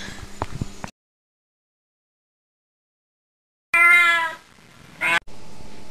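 A cat meowing, with two short loud meows heard close up after a long stretch of silence and a brief burst of other sound at the start.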